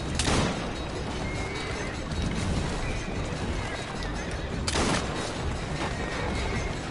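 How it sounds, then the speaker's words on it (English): Horses neigh amid gunfire and crashing in the Assassin's Creed Syndicate video game, a dense, loud and steady wash of noise with sharp bursts near the start and again around the middle. "I hate shooting the horses, but"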